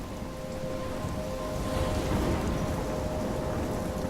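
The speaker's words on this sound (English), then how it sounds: "I'm trapped in a storm?" Heavy storm rain from the video game Life is Strange pours steadily as a dense, continuous hiss, swelling slightly midway, with a low rumble underneath and no voices.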